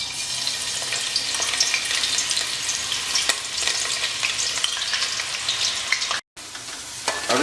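Chopped onions sizzle and crackle steadily in hot oil for palak chicken, a continuous close frying hiss that drops out briefly near the end before resuming, with no talking.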